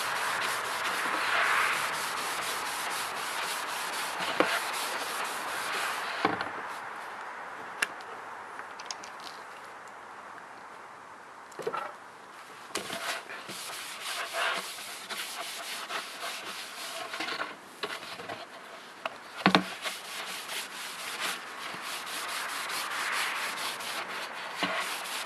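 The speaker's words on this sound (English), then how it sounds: "I'm going to wipe this down with some alcohol. Get rid of any dust or debris." A cloth rubs and wipes across a rocket airframe with alcohol, producing continuous close scrubbing strokes with occasional sharper knocks and brief pauses, and no talk.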